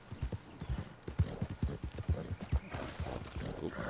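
Horse hooves clip-clopping in the video game Red Dead Redemption II, a quick steady rhythm of close, loud hoofbeats that runs throughout with no voices over it.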